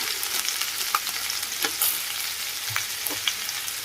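Chicken pieces with chicken, mutton and garam masala sizzling in a pan for a hotel-style chicken roast, crackling steadily up close with repeated scraping stir strokes.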